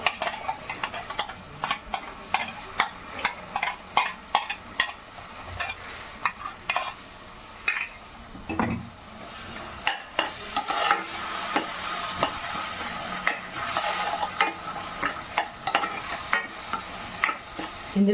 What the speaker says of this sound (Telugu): మనం ముందుగా మిక్సీ పట్టుకున్న పేస్ట్ అయితే ఇందులో యాడ్ చేసుకుందాం.